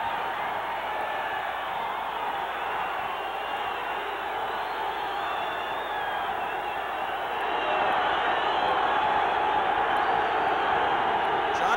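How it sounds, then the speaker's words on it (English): A boxing arena crowd roars during the Henry Martinez vs Johnny Tapia pro fight. The noise is a steady, dense wash of cheering that grows louder partway through, with a commentator talking over it. "This crowd is just eating this up."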